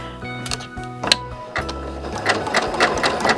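A sewing machine stitches an embroidered rope bowl, the cording fed under thread tension, giving a close, steady mechanical whir with rhythmic needle ticks that grows busier partway through.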